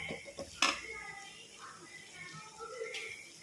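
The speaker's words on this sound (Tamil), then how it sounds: "அதை நல்லா வதக்கி விட்டுக்கலாம்" Prawn masala with chilli powder sautéing in a pan: a few close metallic clanks of a spoon against the pan early on, then soft scraping and stirring, with low voice sounds in the background.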